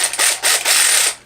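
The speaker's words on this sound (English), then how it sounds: "You will also get a 3/8 ratchet, which is power ratchet." A cordless 3/8-inch power ratchet spins steadily at close range, giving a continuous buzzing whir that briefly dips in two spots before winding down at the end.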